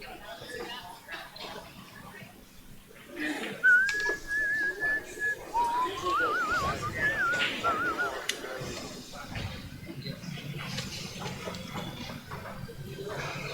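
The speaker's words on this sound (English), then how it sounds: "Y'all hear him whistling" A man whistles a short, wavering melody amid quiet background sounds at a 9-ball and 10-ball pool match, with faint talk and bird-like tones around it.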